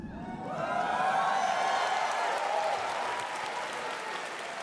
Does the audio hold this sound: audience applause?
yes